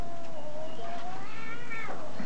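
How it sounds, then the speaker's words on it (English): A cat meows in a long, wavering, drawn-out yowl that rises and falls, fairly close, with a second shorter cry near the end. "That's the cat making all the noise"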